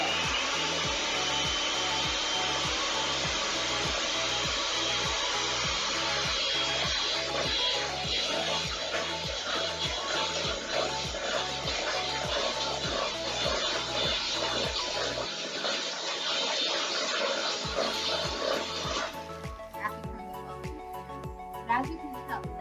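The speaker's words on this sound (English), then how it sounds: "I'm rotating the bowl and the mixer at the same time to get double the amount of." An electric hand mixer whips cream in a tilted bowl while both are rotated, a steady loud motor whir running almost unbroken for about twenty seconds before dropping off near the end, with a voice talking over it.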